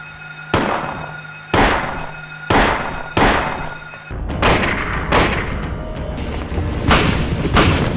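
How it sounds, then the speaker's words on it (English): Silent Hill video game gunfire: a series of sharp, booming shots, evenly spaced at first and then coming faster and denser, each with a short reverberant tail. "I've never heard any of Silent Hill's gunfire sound effects in another game"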